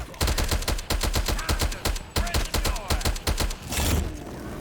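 An automatic gun firing in Call of Duty zombies, with rapid loud shots in quick rhythmic bursts and brief pauses between them, close and dominant.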